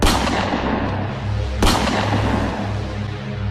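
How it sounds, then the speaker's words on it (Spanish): Two loud gunshots, one at the start and one about a second and a half later, each a sharp blast followed by a long rumbling, booming decay. "sacó su arma y la disparó 2 veces"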